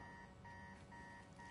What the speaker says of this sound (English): An alarm's going off.